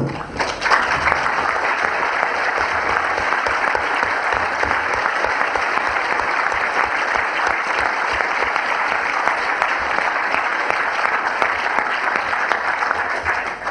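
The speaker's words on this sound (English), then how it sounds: "please reserve your applause to the end" Loud, sustained applause from a large audience at a formal debate on the resurrection of Jesus, dense and continuous for over ten seconds without letting up.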